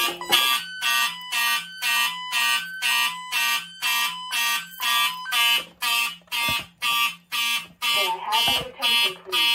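A Simplex 4251-20 fire alarm blares in loud, evenly spaced horn blasts about twice a second, continuing steadily with no pause.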